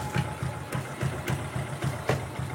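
A small carburetted engine ticks over at a steady idle after its idle screw has been tightened, a close, even, low thumping pulse of roughly four beats per second with faint mechanical clicks, with no voices.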